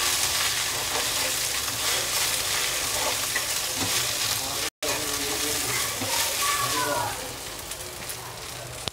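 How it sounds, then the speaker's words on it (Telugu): Gongura leaves fry in a pan with a steady, close crackling sizzle that holds for several seconds, breaks off briefly once, then eases slightly softer near the end. "గోంగూర వేగే వరకు వేయించుకోవాలి"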